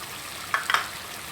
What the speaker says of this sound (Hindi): अब इसमें मैं दही ऐड करूँगी 1 कप दही।